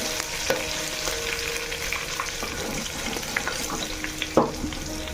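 Bay leaves and green chillies fry in a pan with hot oil for a chicken curry, giving a steady close sizzle with occasional sharp pops and stirring scrapes throughout.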